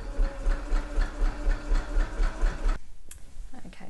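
Domestic sewing machine running a 3 by 2.5 zigzag stitch on a sweatshirt neckline, a steady close motor drone with a rhythmic pulse that stops abruptly near the end, leaving quiet handling noise.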